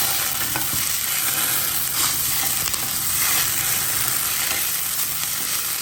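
Ginger garlic paste frying in a hot tempering of oil for betel leaf rasam, a steady dense sizzle with occasional stirring scrapes, close and continuous throughout.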